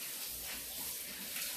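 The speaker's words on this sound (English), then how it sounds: "I will wash my hands again." Running water from a kitchen tap as hands are washed during cooking, a steady soft hiss of flow and splashing, fairly quiet and continuous with no talk.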